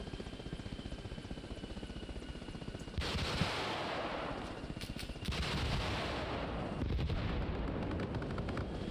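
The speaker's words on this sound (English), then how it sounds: "I think the front gunners were shooting a little bit late there." Mounted gunners fire in the military game Arma Reforger during a large community battle: heavy, continuous automatic gunfire roars throughout and grows louder in two steps as more weapons join in.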